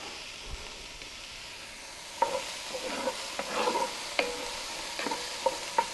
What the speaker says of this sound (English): we're going to saute these down till they change a little color, soften up just a bit